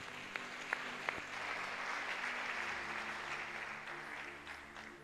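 A church congregation at a Sunday worship service applauds to acclaim Jesus Christ, with steady clapping and a few sharper claps at the start, sustained at moderate loudness throughout.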